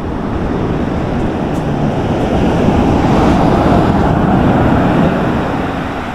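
Ocean surf rolls in at a beach in Dingalan, Aurora, a loud, continuous roar of breaking water and wind buffeting the microphone that swells slightly toward the middle.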